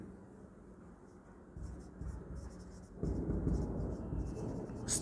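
Faint scratchy strokes of writing on a board during a Class 12 accounting lesson, soft and steady at first, growing a little louder and busier partway through, with no talk over them.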